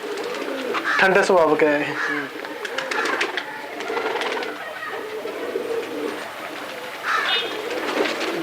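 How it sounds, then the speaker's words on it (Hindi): Sialkoti pigeons, a male and female pair, coo in soft rolling bursts near the start and again later, heard under steady nearby men's conversation. "सियालकोटी कबूतर बड़ा नरम है"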